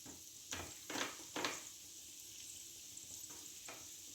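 Amla softening in a pan gives a soft, faint sizzle, with a few louder scraping pushes of a spatula cutting through the fruit early on, then quieter occasional taps.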